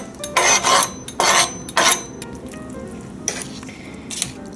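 A spoon stirs canned mushrooms and other ingredients for S.O.S. in a frying pan: several close, fairly loud scraping and sizzling strokes in quick succession, then softer clinks against the pan, with no talk.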